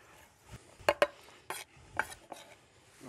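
Julienned strips of smoked bacon dropped into a skillet, producing a few sharp, close clinks and scrapes of utensil on pan over a faint background, without speech.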